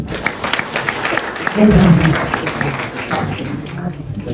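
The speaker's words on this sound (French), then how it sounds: "Monsieur Fofana, j'aimerais vraiment que vous l'applaudissiez" An audience at a youth integration day at an open digital space in Kolda applauds, a dense wash of clapping that swells midway and carries on steadily, mixed with crowd noise and voices.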